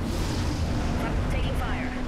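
Gunfire rattles through an Apex Legends match as dense, continuous explosive bursts and booms over a steady loud battle rumble, with a voice speaking over the action.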